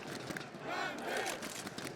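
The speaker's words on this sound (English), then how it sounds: "Crowd rising for the players on the server." Arena crowd at a PGL Major Counter-Strike quarter-final in Stockholm between Gambit and FURIA on Inferno, roaring and chanting for the players as a dense, sustained wall of voices that swells in the middle with some yelled calls.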